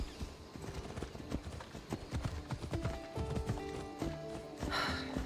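Steady clip-clop of horse hooves trotting along in Assassin's Creed Odyssey, with a low musical bed and a brief rustle near the end.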